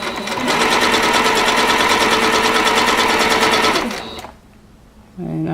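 A sewing machine stitches fabric with stretchy jelly tape fed through, a loud steady rapid whir for about four seconds before it stops, leaving quiet room tone and a brief voice at the end.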